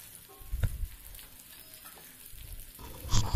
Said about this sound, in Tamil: அப்புறம் கொஞ்சம் சின்ன வெங்காயம், எல்லாம் வணங்கிக்கலாம்.